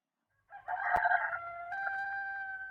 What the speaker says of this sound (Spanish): Oh, un gallo.